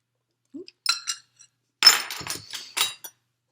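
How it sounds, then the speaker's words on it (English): A utensil stirring cocoa buttercream frosting in a bowl with vanilla being added, heard as scattered close clinks and scraping taps against the bowl separated by short silences, with no speech. "now I am going to add my vanilla and keep stirring"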